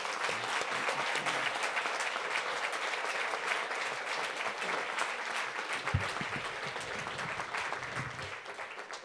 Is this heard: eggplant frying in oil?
no